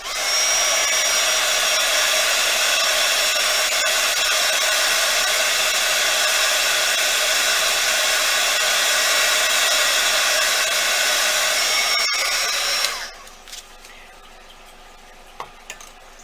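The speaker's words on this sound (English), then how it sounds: "what I normally do is I just hit it with my heat gun just a bit" A heat gun blows hot air to dry paint on a polymer clay skull pendant, a loud, steady roaring hiss for about thirteen seconds that then cuts off, leaving a quiet room with a couple of faint knocks.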